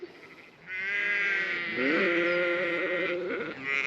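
Several sheep, including Suffolks, and lambs bleat nearby, overlapping calls rising and wavering with no talking.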